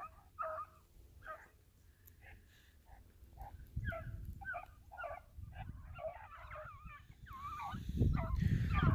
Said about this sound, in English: Dogs are in there running.